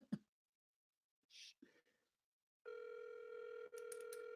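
A telephone call waits to be picked up: after a few brief clicks and dialing sounds, a steady electronic ringback tone starts, broken by one short gap, clear and alone.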